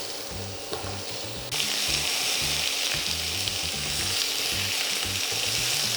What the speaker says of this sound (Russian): Картофель обжариваем до колера, не до готовности.